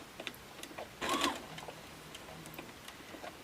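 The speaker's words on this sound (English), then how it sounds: "I'm just going to go ahead and stitch back and forth, add a couple extra stitches." A Baby Lock Jubilant sewing machine stitching a fabric ornament back and forth gives a brief, close burst of rapid mechanical whirring lasting about a quarter second, surrounded by quiet room tone and faint ticks.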